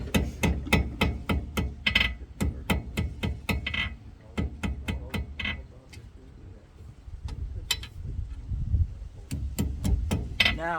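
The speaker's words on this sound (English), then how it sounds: "I like to watch him do it on that trip hammer." A trip hammer forges a lead hummingbird at a demonstration in Shreve, Ohio: sharp, rapid, evenly spaced metallic blows in bursts, pausing briefly between runs, close and fairly loud.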